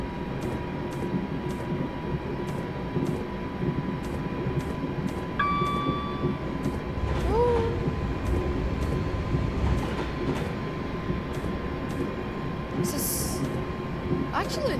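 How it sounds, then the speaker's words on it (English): A class 350 electric multiple unit runs in Train Simulator 2015 with a steady rumbling hum, regular clicking beats and a couple of rising tonal whines, while a person talks over it. "this just sounds like a freaking Australia train"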